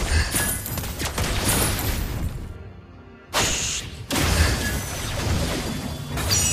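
Gunfire and impacts from the mobile game Mobile Legends played as the marksman Lesley, a dense burst of shots and crashing hits that drops out briefly to near silence, then resumes loud and busy.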